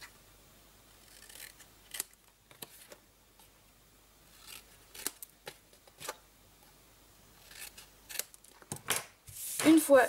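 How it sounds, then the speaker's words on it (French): Scissors snip the corners of a piece of patterned paper in several short, quiet cuts spread apart, with faint handling noise and a louder rustle at the end. "je vais commencer par couper les 4 coins de mon morceau de papier à motif"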